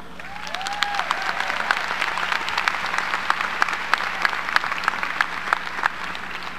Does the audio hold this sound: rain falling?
no